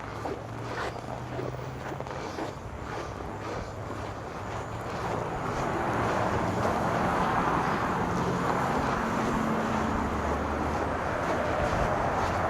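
Wind gusting on a cold winter walk in Winnipeg, a broad rushing roar that swells partway through and stays strong, buffeting the microphone, with faint traffic rumble beneath.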